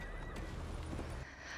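A horse neighs in the Assassin's Creed Valhalla video game, a loud close whinny over a thick layer of game ambience and rumble that drops slightly near the end.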